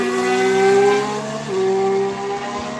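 A Formula 1 Ferrari race car running slowly near Turns 1 and 2, its steady whining engine note dipping briefly midway as it shifts, then carrying on, with no one speaking.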